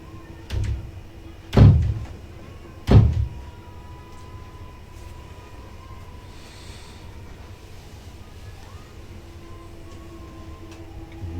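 Someone banging on a door: two heavy, close thuds about a second and a half apart after a lighter knock, then a steady low background hum with no further blows.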